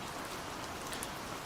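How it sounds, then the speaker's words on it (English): Rain drums softly on a roof and taps on leaves in a steady, even wash of drops, alone and without any voices. "the soft drumming of the rain on the roof"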